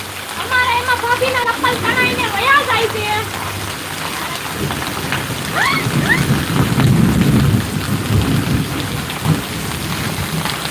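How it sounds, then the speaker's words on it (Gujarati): Thunder rumbles low and heavy through a steady downpour of rain, with a voice talking over the storm early on. "આમ જો વીજળી કડાકા કેવા છે"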